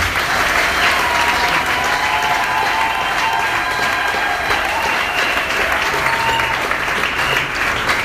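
A congregation in a church service claps loudly and steadily for several seconds in a dense, sustained round of applause.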